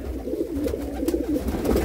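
Breeder pigeons, deep-netted golden Rampuri birds in a Jammu sale loft, make a short stretch of soft, low cooing against a steady murmur of background noise.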